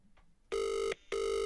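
A telephone ringing during a call attempt, two loud electronic rings with a short gap between them, after a quiet lead-in.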